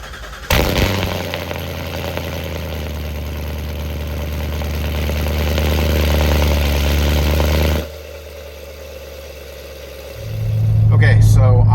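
A C7 Corvette fitted with an aFe Mach Force-XP exhaust rumbles at a steady, deep drone, drops off briefly, then swells louder again near the end.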